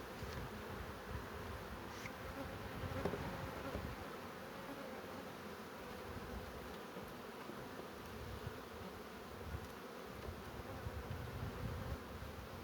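A dense, steady buzzing hum of many honeybees close by inside a 10-frame hive, continuous throughout with no voices.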